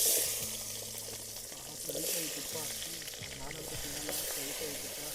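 Sliced onion sizzles in hot oil with cinnamon and cloves in a village-style kitchen, a steady crackling fry with occasional stirring scrapes, fairly quiet and without talk.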